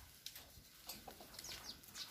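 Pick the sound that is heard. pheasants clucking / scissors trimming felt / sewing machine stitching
pheasants clucking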